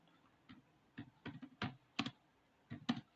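Someone types on a computer keyboard, eight or so distinct, close, quiet key clicks spaced unevenly over a few seconds, with no voices.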